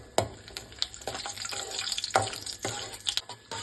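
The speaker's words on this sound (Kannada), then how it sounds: "ಗೋಡಂಬಿ, ದ್ರಾಕ್ಷಿ ಸ್ವಲ್ಪ ಬ್ರೌನ್ ಕಲರ್ ಬರೋವರೆಗೂ ಚೆನ್ನಾಗಿ ಫ್ರೈ ಮಾಡ್ಕೊಳ್ಳಿ" Cashews and raisins frying in ghee over medium heat, a light crackling sizzle with scattered pops and stirring clicks, fairly close and steady, no voices.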